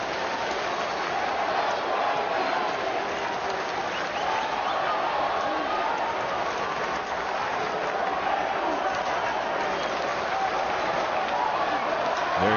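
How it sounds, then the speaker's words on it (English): Sustained booing from a large baseball crowd at Wrigley Field, Cubs fans drowning out visiting Yankees fans; a steady, distant roar of voices that holds evenly across the whole stretch. "the Cub fans are getting upset, and that's why you hear the booing"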